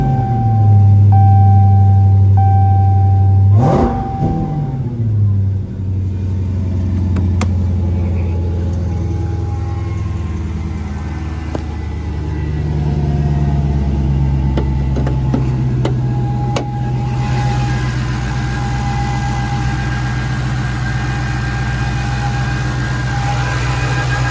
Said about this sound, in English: I'm gonna go ahead and press this little button here, that way we can get the car started.